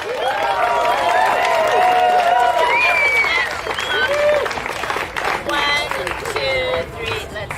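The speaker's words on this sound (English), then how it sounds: "let's give them a round of applause. Come on, woo!" Outdoor crowd at a house groundbreaking in Heber, Utah claps and cheers, with whoops and excited voices over continuous applause, cheers rising and falling before tapering toward scattered claps and chatter.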